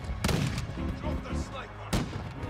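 Gunfire in the online shooter Modern Warfare 2 Warzone, with two loud broadband blasts a couple of seconds apart over dense game noise and scattered shots, while players talk.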